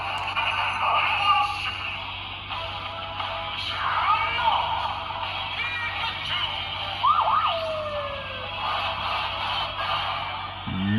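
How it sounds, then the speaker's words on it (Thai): A toy police car siren from a Kamen Rider DX Valvarusher toy wails in rising and falling sweeps over steady background music, loud and continuous throughout. "ใบนี้มีเสียงรถหวอตำรวจด้วยนะครับ"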